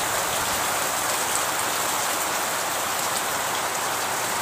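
Steady, dense rain falls on a rooftop where pigeons are kept, a loud continuous hiss with no talking.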